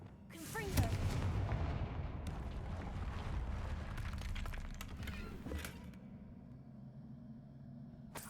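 Loud blasting explosions from a fire spell in the Hogwarts Legacy video game, with a sharp crack followed by rumbling debris and scattered smaller impacts that fade out.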